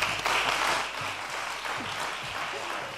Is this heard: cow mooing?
no